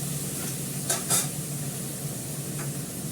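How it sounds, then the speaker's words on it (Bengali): Small kachki fish fry in mustard oil, a steady soft sizzle throughout with a couple of brief scraping stirs near the middle, no voices. "কাচকি মাছটাকে ভালো করে ভেজে আমি তুলে রাখবো"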